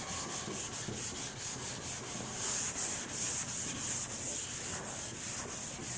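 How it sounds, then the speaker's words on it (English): A sanding block rubs primer off the body of a 1961 Impala being prepped for paint, making steady, fairly quiet back-and-forth strokes with no talking. "So you're just gently sanding it and you're just letting the primer just fall right off."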